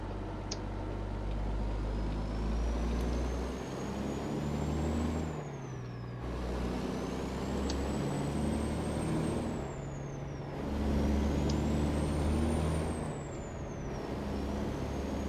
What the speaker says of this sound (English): SES has just finally updated the sound on the engine